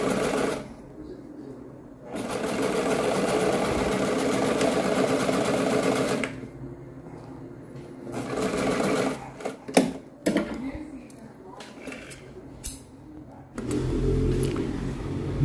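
A sewing machine stitches a zipper seam in several separate runs, its fast, even needle chatter starting and stopping close by, with quiet handling noises and a few clicks between the runs.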